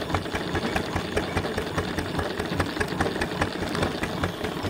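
Steady, rapid chuffing exhaust beat from a trailer-mounted steam engine and boiler, a fairly even mechanical pulse at moderate loudness with no voices.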